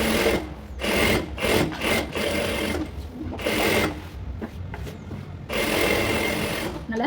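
Sewing machine stitching a blouse lining, running in bursts of rapid mechanical whirring and clatter separated by short pauses as the fabric is smoothed and repositioned.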